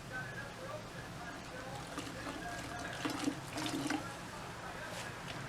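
Water trickles and sloshes while a raccoon hide is washed, a soft, fairly faint dribbling with brief splashes, heard close with no talk over it.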